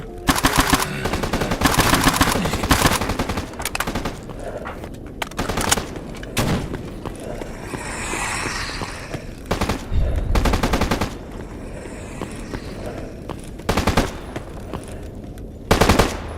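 Rapid automatic gunfire crackles in S.T.A.L.K.E.R. Anomaly, loud close bursts repeating in stretches with short lulls between volleys.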